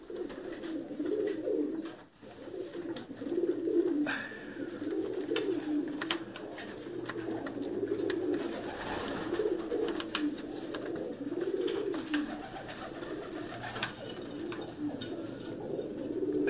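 Pigeons coo steadily in a loft, black birds of a Rawalpindi breed. The soft, rolling coos overlap continuously at close range, with faint handling noise and no speech.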